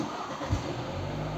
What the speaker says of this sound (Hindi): और ये है स्टार्ट स्टॉप बटन। तो मैं गाड़ी को स्टार्ट करूँगा